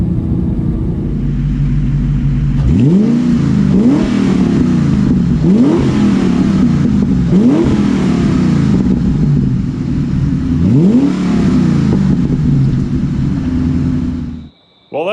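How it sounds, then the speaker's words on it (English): A 2000 Ford Mustang Cobra R with a Bassani side exhaust revs repeatedly, about six sharp throttle blips rising and falling over a loud, deep idle rumble, close and powerful, before cutting off abruptly. "installing an aftermarket exhaust system on my 2000 Cobra R"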